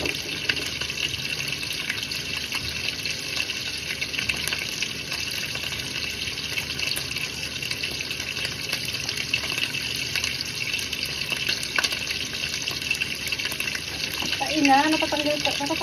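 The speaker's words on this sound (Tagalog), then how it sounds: "Hugasan ko pa ba ito? Hugasan natin." Water runs steadily from a tap during washing at home, a continuous close gush with no pauses, joined near the end by a brief voice.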